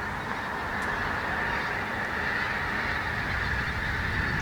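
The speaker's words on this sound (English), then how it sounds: "If you listen carefully, guys, you may be able to hear some geese flying over" A large flock of pink-footed geese flies over a wetland nature reserve, a dense continuous chorus of distant honking calls blending into a steady wash of sound.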